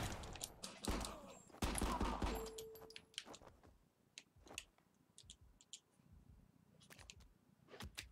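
Gunfire rattles in the video game RICO: a dense burst of shots and noise at first, then scattered clicks and pops thinning out, fairly faint overall.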